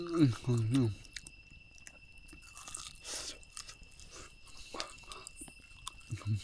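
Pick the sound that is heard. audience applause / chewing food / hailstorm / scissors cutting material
chewing food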